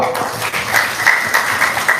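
An Indonesian seminar audience clapping for an elderly guest from Natuna, a short patter of applause with light cheering or calls over it.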